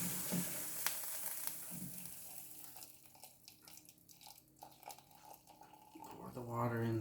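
Hot water is poured over lemongrass in a steeping container for tea, a steady close splashing pour that runs for several seconds and then trails off.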